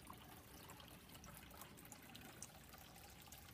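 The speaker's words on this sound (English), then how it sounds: "And my water fountain gives it a nice sound." Small water fountain in a balcony garden trickling steadily, a soft continuous wash of running water with no voices.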